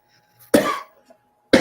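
A single sharp cough close up, then a brief pause and the start of another cough.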